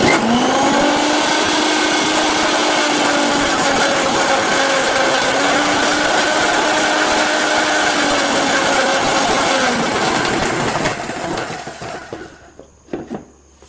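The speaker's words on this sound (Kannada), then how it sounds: "ಇನ್ನೊಂದು ಚೂರು ಗ್ರೈಂಡ್ ಆಗಬೇಕು." A mixer grinder whirs steadily while grinding chicken kabab masala, a loud high-pitched motor drone holding for about eleven seconds before spinning down and stopping, leaving faint clinks.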